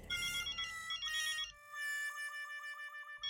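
Telephone ringtone playing in a home at night, a loud electronic melodic ring in two repeated bursts followed by a sustained tonal phrase, clear and alone.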